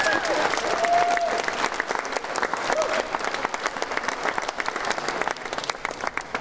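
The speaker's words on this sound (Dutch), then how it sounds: "Dus applaus voor het team." Steady, dense applause from a crowd at a magazine launch presentation in Veldhoven, many hands clapping continuously at an even loudness throughout.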